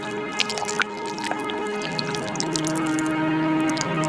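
Water is drawn from a village well and drunk, heard as a dense run of close, loud drips, gurgles and squishy liquid sounds over a steady tonal background, with no speech.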